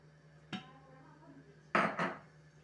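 A metal cooking pot is set down on a home kitchen stove: one light clink, then two louder close clanks in quick succession against a quiet background hum.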